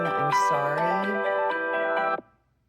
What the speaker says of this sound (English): If you hear my phone ringing, I'm sorry.